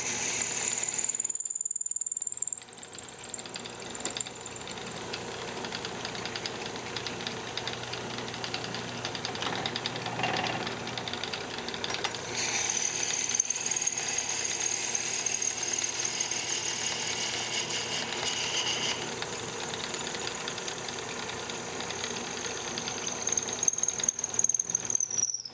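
A drill bit bores into wood on a woodturning lathe while a knitting needle case is being made, giving a steady, loud grinding whir that runs continuously, with brief dips as the bit is worked back and forth and cleared.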